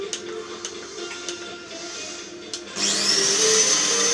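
An electric mixer switches on and starts whipping egg whites with a pinch of salt, its steady whir loud and close after a few soft clicks and knocks.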